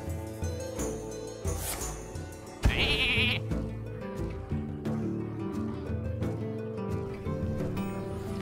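A 1/1 sheep minion in a card video game gives a loud, clear bleat over busy game music and effects, with a sharp burst of sound effects partway through.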